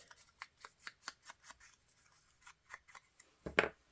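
Scissors make a quick, soft run of snips along a paper edge during a papercraft project, giving a regular close clicking rhythm that ends in a louder rustle of paper, with no talking.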